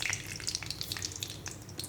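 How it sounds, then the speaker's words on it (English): Mustard seeds frying in three tablespoons of hot oil in a kadai, a steady close crackle with bright sputtering pops scattered throughout, no voices. "So into the kadai with 3 tablespoons of oil, I am adding mustard, 1/4 teaspoon of mustard,"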